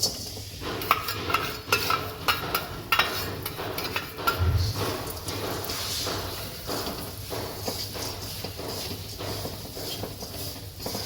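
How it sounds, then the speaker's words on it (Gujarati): A spoon stirs jaggery into hot ghee in a pan, a steady close scraping and shuffling with a soft sizzle beneath, continuous throughout with occasional sharper knocks. "ઘી ગરમ થાય એટલે આપણે ગોળ નાખી દઈશું."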